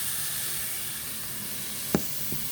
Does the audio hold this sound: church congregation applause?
no